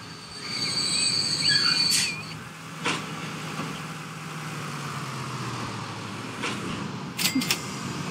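A train in the rail game Transport Fever 2 rumbles steadily along with squealing wheels and a few sharp metallic clacks, moderately near and continuous.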